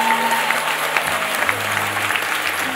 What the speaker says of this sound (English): You can clap for Jesus better.